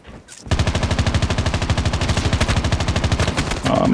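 Rapid automatic gunfire in the mobile shooter Call of Duty Mobile, a loud, close, evenly spaced burst of shots running for about three seconds, with no talking over it.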